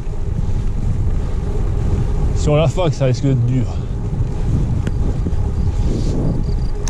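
Steady wind roars and buffets the microphone loudly during a cycling sportive in the Drôme Provençale, with someone speaking briefly in the middle.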